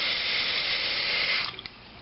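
Steady rush of water refilling a toilet tank after some water was removed, a continuous hiss that cuts off abruptly near the end, leaving a few faint drips and a quiet tail.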